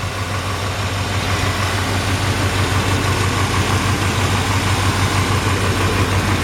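A 1957 Chevrolet 3100 pickup truck engine idles steadily nearby with no ticks or exhaust leaks, a low rumbling drone with a constant vibrating hum and no talking.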